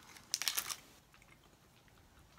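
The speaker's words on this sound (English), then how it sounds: "Now I'm chewing." Up close and faint, someone bites into and chews a dry Tootsie Roll brownie, with a short burst of crunchy chewing followed by softer mouth sounds.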